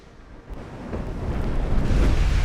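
Naval shells strike in Ultimate Admiral: Dreadnoughts during a broadside exchange between battleships and heavy cruisers, a rumbling low boom swelling steadily in loudness like distant thunder.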